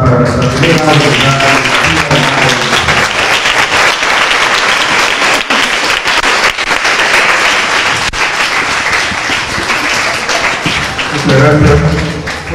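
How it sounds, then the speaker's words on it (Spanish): Loud, sustained applause from an audience at a school-supplies handover event in Talara, Peru, steady dense clapping over many seconds, with a speaking voice heard at the start and again near the end. "que recibimos con fuertes palmas para nuestra primera jornada"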